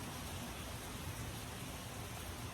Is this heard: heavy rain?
yes